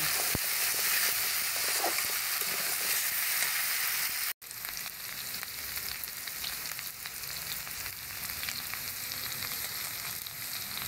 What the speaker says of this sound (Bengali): হলুদ দেবো, দিয়ে মুখে কষাগুলো সুন্দর করে নেড়ে করে কষাইয়ে নেব।